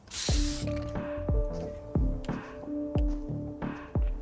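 Graffiti spray being applied in the Valorant video game: a hissing spray burst at the start, followed by a run of short squishy, dripping game effects repeating at a steady rhythm, clear and close with no talk.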